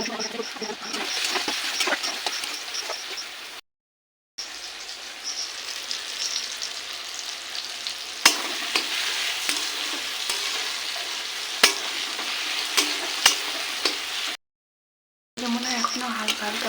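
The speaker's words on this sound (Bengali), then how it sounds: "এখনো হালকা হালকা ভাজা হবে" Chicken frying in a pan gives a steady broad sizzle with occasional sharp clicks of stirring, broken by two brief silent gaps, with no talking over it.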